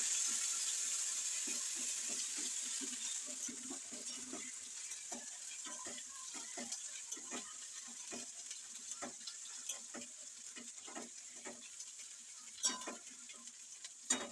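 Onion paste fries in hot oil in a pan with a continuous bright sizzle, broken by frequent soft scraping and stirring taps as it is moved around.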